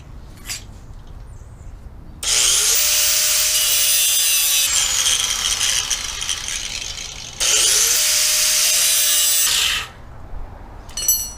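A metal panel is cut on a 1965 Chevy C10 with a loud, harsh grinding whine in two long sustained passes, separated by a brief pause, close and alone.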